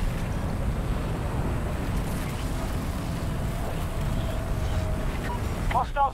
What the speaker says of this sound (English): Wind is picking up. There's a tornado.